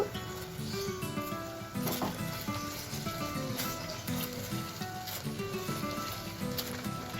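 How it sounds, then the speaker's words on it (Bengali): Spice masala for a paneer curry fries in a pan with a steady, soft sizzle and crackle throughout, fairly quiet, with a few faint clinks and no talk. "খুব ভালো করে মশলাটাকে কষিয়ে নেব।"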